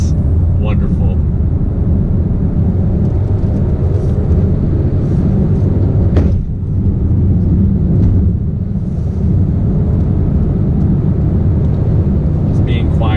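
Inside a 2020 Kia Telluride AWD driving off-road, a steady low rumble of road and engine noise fills the cabin, with wind and faint rattles over it and a brief bump partway through.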